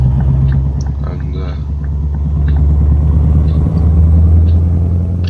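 A car drives through a rural village, its engine rumbling low and steady throughout, with someone talking over it for most of the stretch.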